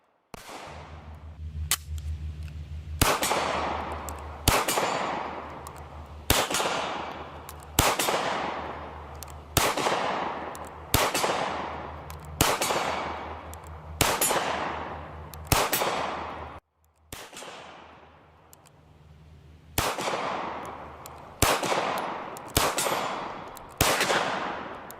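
Steyr M9-A1 polymer striker-fired pistol firing in the game Warface, a series of about thirteen loud, sharp shots at a steady pace, each with a booming tail and a mechanical hum underneath, and one short pause midway.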